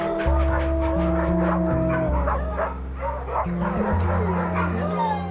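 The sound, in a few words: small dog barking and whimpering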